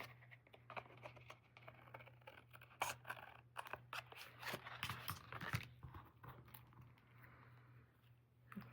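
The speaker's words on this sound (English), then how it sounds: "I put my scissors right against there, and I go across." Scissors cut straight across a piece of card for a handmade card front, giving a run of faint, close, crisp snips and rustles over a steady low hum.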